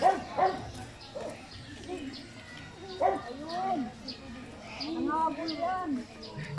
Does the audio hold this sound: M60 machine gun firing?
no